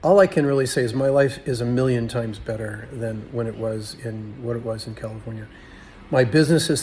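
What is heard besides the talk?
No everyday noises stand out.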